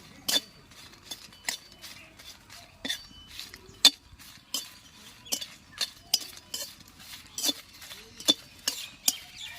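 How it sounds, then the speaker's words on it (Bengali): Dry-roasted chillies and whole bay leaves stirred in a pan, a spoon scraping and clinking against the metal in irregular short strokes, fairly quiet and close, with no talk over it. "এই লঙ্কার মধ্যে গোটা তেজপাতা দিয়ে দেবো, একটু নাড়াচাড়া করে নেব"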